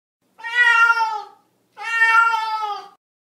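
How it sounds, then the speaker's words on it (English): A domestic cat gives two clear, close meows, each about a second long, separated by a short silence. "Cat."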